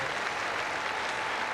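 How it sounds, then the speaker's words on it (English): Fans at a tennis court applaud a departing player at the 1996 Stella Artois tournament. Dense, steady clapping from a large crowd continues evenly throughout this brief moment, with no distinct voices above it. "receiving the applause of so many fans around this court"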